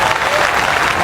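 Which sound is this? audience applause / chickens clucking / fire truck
audience applause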